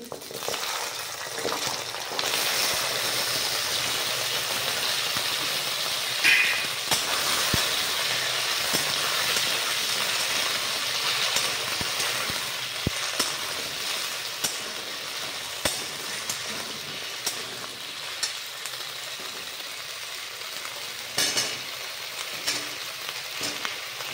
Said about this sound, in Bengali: দিয়ে দিচ্ছি ফোড়নের মধ্যে কচু